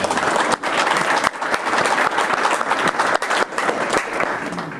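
Sustained applause from a conference audience at a Pinot Noir technical meeting, dense and steady clapping filling the room for several seconds with brief dips.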